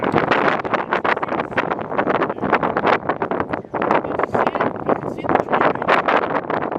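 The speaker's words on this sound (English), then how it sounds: "Windy. Wind's kicking out." Strong gusting Santa Ana wind buffets the microphone in loud, continuous bursts with no break, near Tehachapi.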